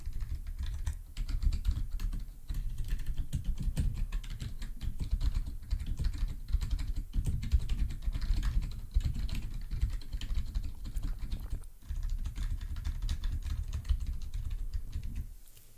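Steady keyboard typing runs continuously at close range, with dense rapid key clatter and only brief pauses, no voices over it.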